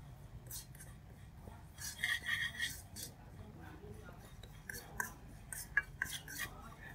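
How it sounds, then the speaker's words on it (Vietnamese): Fresh sesame seeds toasting in a dry pan, stirred with a utensil that clinks and scrapes against the metal in faint, irregular taps and a brief run of scraping. "Mua về mình bắt chảo rồi mình rang cho nó thơm."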